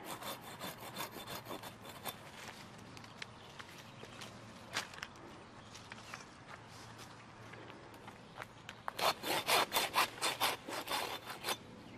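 A pruning saw cuts deadwood from a tree in quiet, scattered rasping strokes, then a quicker, louder run of back-and-forth strokes near the end, close by and without voices.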